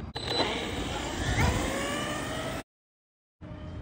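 A Laegendary Thunder RC car on its stock LiPo battery whirs along in a steady, fairly loud electric-motor drone. The sound cuts out abruptly for a moment, then resumes.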